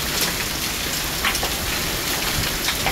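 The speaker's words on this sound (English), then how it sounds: "It's hailing." Golf-ball-sized hail falls outdoors in a dense, steady rattling hiss with scattered sharper impacts throughout, loud and close.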